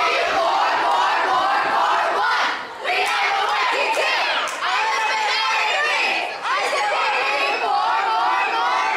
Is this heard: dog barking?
no